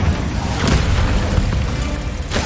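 The Incendio fire spell is cast in the Hogwarts Legacy video game, a loud, dense whooshing burst of flame with a booming roar that fills the whole moment.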